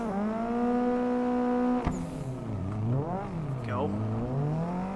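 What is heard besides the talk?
drifting race car engine revving, tire squeal, Assetto video game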